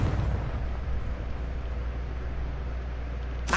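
A Confringo fire spell explodes in Hogwarts Legacy, heard as a loud, sustained rumbling blast that rolls on for several seconds before a brief sharp crackle at the end.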